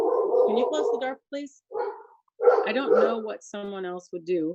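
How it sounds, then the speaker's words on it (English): A pet dog barks and yips in short bursts indoors, close and fairly loud, interleaved with a person speaking. "That was my dog."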